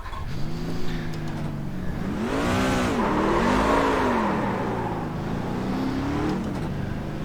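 A truck engine in the iRacing video game, a simulated race at Texas Motor Speedway, revs up in rising and falling sweeps that peak midway and then settle into a steady drone, loud and close with no speech.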